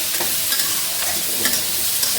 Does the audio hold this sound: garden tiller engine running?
no